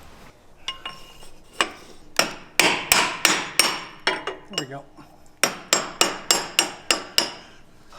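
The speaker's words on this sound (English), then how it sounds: "use a hammer and a brass punch to see if I can't knock it out" Sharp metallic strikes of a hammer on a brass punch ring out in quick rhythmic bursts against a Jeep JL driveshaft flange, close and loud, with a brief spoken remark between the series of blows.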